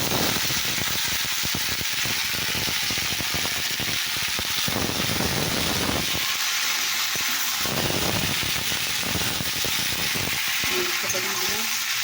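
Vegetables frying with onions in a pan give a steady, close broadband sizzle with stirring scrapes, loudest in the first half and briefly quieter around the middle.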